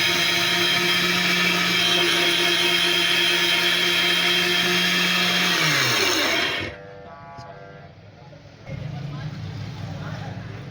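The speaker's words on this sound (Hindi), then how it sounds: "तमाम मसाले को हम ग्राइंड करने के बाद आपको दिखाएंगे कि इसकी क्या शक्ल निकलती है।" An electric grinder whirs loudly at high speed, grinding masala spices for chicken noodles, then winds down and stops, leaving a quieter background.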